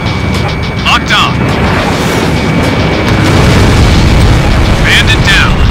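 An enemy jet blows up during an Ace Combat Infinity dogfight, a loud booming burst over constant roaring engine and battle noise, with brief whooshing passes near the start and end.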